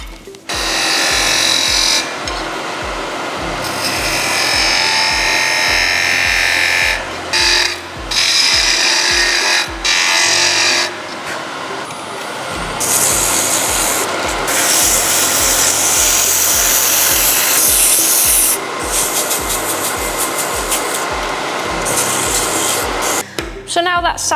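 Wooden carving mallet being sanded on a spinning lathe, a steady loud rubbing hiss over the motor's hum, continuing with brief pauses and no talk.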